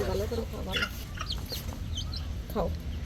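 Chickens clucking in a village household, several short clucks scattered through the moment over a low background hum, with faint voices nearby.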